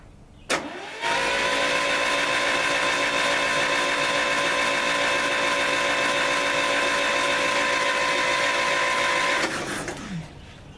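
A 1966 U302 engine cranks loud and close for about nine seconds after a short click, a sustained whirring starter drone with a steady pitch that winds down at the end; no one talks over it.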